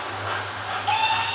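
Whistle sound effect from a Hornby HM6000 Flying Scotsman model locomotive: a soft hiss, then a short, thin, high whistle that enters partway through and holds to the end.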